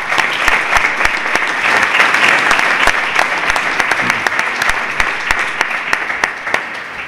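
Sustained applause from a sizeable audience, dense clapping with a few sharper individual claps standing out, steady throughout.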